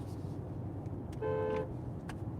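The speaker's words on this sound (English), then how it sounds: "That's a solid horn." A 2021 Mercedes-AMG GT 43 4-Door Coupe horn gives one short, steady toot over a quiet cabin background, fairly faint and without overlapping speech.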